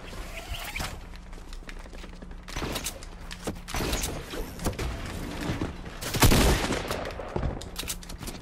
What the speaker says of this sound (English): I'm hearing so much shooting over here.